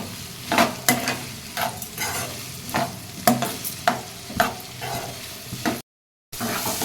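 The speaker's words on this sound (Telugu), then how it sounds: "కొంచెం ఉప్పు, కూరకు సరిపడా వేసుకుని ఉల్లిపాయ ముక్కలు వేపుకుంటే త్వరగా ఉల్లిపాయ ముక్కలు వేగుతాయండి." Onion pieces fry with turmeric and salt in a pan for a jackfruit seed curry, a steady sizzle broken by repeated scraping strokes of a spatula, close and alone, with a brief dropout near the end.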